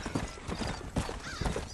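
Horse galloping in the video game Red Dead Redemption, a rapid, rhythmic clip-clop of hooves at a steady pace, fairly quiet and heard alone.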